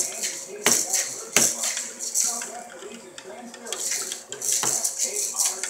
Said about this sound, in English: Keep on stirring.